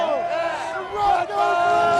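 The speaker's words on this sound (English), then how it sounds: "this crowd's going to be yelling RedBud as loud as they can" A motocross crowd at the RedBud round of the 2006 AMA championship yells and cheers loudly and steadily, a dense wall of massed voices filling the whole stretch.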